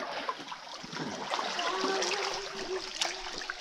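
Water trickling and dripping inside a sea cave, a soft continuous wash with faint splashes and drips echoing close by, fairly quiet and alone.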